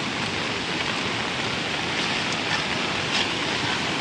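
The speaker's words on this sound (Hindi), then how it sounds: "देखिए ये पानी का बहाव जो है कितना" A strong water current rushes past a paddy field on its way toward a dam, a loud, steady broadband roar that holds unbroken throughout with no voices.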